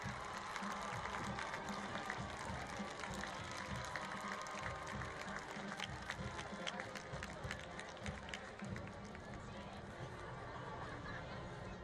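Applause and cheering from a crowd at a Liberty North high school homecoming game against SJC, recognizing the homecoming court; dense, steady clapping with crowd noise through the whole stretch, voices mixed in underneath.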